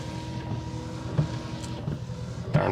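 A 2005 Chevrolet Tahoe with a recently fixed misfire cruises down the road, a steady low engine and road rumble with wind noise heard from inside the cabin and a couple of brief bumps.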